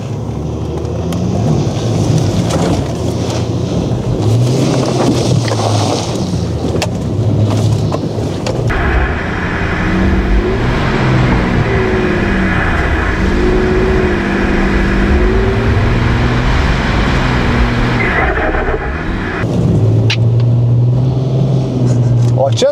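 An off-road car engine labours and revs loudly over rough terrain, steady and close throughout, with people talking over it inside the vehicle.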